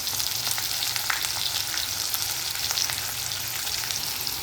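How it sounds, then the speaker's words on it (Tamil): Carrot, curry leaves, onion, green chilli and mustard seeds frying in oil for upma, a steady close crackling sizzle with light popping throughout and no voices. "கேரட்டு கருவேப்பிலை உள்ளி பச்சை மிளகாய் கடுகு போட்டிருக்கேன்"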